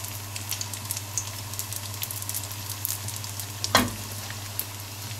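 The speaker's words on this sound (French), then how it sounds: "comptez avec de l'huile très chaude, comptez 1 minute et demie à 2 minutes" Almond cigar pastries fry in very hot oil with a soft, steady crackling sizzle under a constant low hum, plus one brief louder clatter near the end; quiet and close, no voices.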